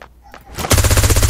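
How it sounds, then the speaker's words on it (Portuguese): A rapid burst of loud automatic gunfire erupts after a brief quiet moment, sharp repeated shots in quick rhythm, fired from a distance in the video game Badlanders. "tem alguém atirando lá de longe. Tiro."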